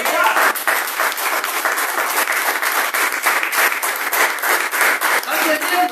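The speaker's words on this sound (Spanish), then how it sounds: "Aplaudí al Señor para que el mundo crea que está." A church congregation applauding the Lord fills the space with loud, sustained clapping that holds steady throughout, and a voice speaks over the applause.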